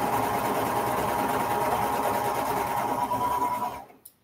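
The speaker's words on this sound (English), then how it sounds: "Don't walk away from your serger till you're sure there's no more holes around the neck" A serger sewing machine stitches a fleece wearable blanket at a steady, loud, continuous whir for nearly four seconds, then stops abruptly with a faint click at the end.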